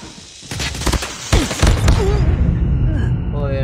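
Rapid bursts of gunfire ring out in a battle royale video game, loud and close, with sharp repeated shots followed by electronic in-game tones and effects.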